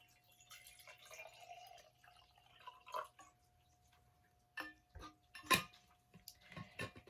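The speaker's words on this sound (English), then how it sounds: "First, we're going to fill our jar with water almost full." Water pours into a jar while a calming jar is being made, heard up close as scattered splashes and drips that grow busier toward the end, over a faint steady hum.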